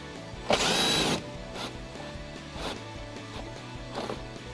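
An impact gun drives a bolt while a Barricade slim fender flare is installed on a Jeep Wrangler JK, one loud close burst of under a second followed by quieter mechanical clicking.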